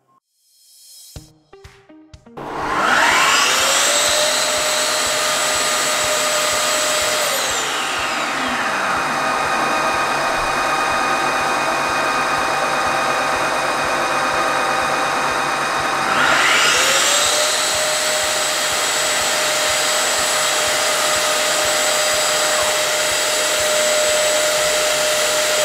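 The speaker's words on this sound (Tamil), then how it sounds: "இப்போ கிளீனிங் சைக்கிளுக்கான பட்டனை ப்ரெஸ் பண்ணுறேன்" A floor cleaning machine runs its self-cleaning cycle after a button press, its motor whining up to a loud, steady roar that sags in pitch partway through, then spins back up and holds steady.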